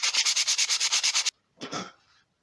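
A pewter crow casting is sanded by hand with 200 grit sandpaper: about ten quick, even rasping strokes run in a steady rhythm, then a pause and one slower, softer rub, all close up.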